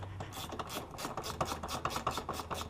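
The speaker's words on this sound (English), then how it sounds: "We're going to be taking off these 2 bolts. This is a 10mm" A hand ratchet clicks rapidly and steadily while loosening 10mm bolts on the engine cover of a Polaris RZR XP 900, close up, quiet, with no voices.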